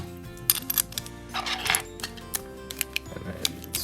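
Small plastic and metal Beyblade parts are fitted and clicked together, giving a scatter of sharp, close clicks and light rattles at irregular intervals.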